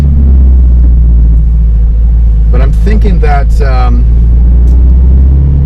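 A Toyota 86 with a DC Sports cat-back exhaust idles on a cold start with a loud, steady low rumble throughout, while a person speaks briefly over it partway through.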